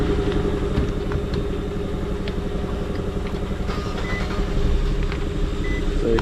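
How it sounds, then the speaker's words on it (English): A Nissan Sentra engine runs steadily at idle after cranking, a continuous low mechanical drone with a faint rattle, heard close and alone during a fuel pump replacement. "So it cranked up. It's gonna run and shut off once the fuel out the line."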